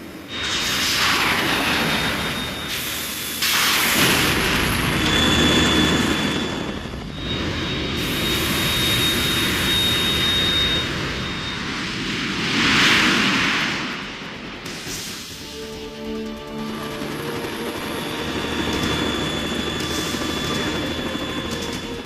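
A Harrier jet roars in the video game Metal Gear Solid 2, a loud sustained engine drone that swells and fades in repeated passes, mixed with blasts and game effects, with no voices.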